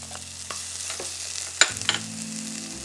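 Onions, Scotch bonnet pepper and scallion hit a hot pan for stewed eggplant, giving a soft sizzle with a couple of sharp clinks and stirring scrapes over a low steady hum.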